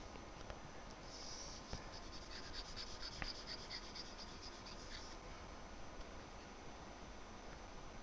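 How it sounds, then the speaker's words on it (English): An eraser scrubs squiggly lines off paper in a math lesson, a faint rapid scratching rubbing for several seconds over a soft noisy background, with no speech. "I'm going to see if I can erase some of the squiggly lines so it's not as confusing."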